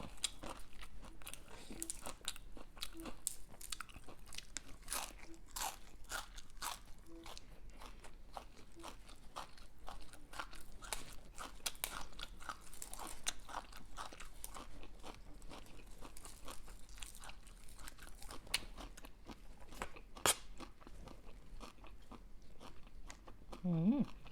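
Crispy pork crackling eaten with rice noodles, fresh vegetables and fried garlic, heard as close, quiet, repeated crunching bites and chewing in a steady rhythm with small crackles, no talking.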